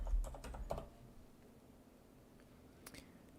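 Keys being typed on a computer keyboard while a search is entered, a quick cluster of clicks at the start followed by a long quiet stretch and one more faint tap near the end.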